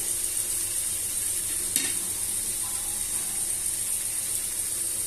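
Chopped capsicum sizzling in a pan while frying for veg fried rice, a steady bright hiss throughout with one brief clatter of stirring partway through.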